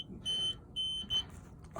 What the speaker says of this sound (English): Now it's beeping because there's no gas connected.